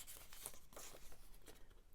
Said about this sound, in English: Just going to fold it in half that way